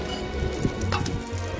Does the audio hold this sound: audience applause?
no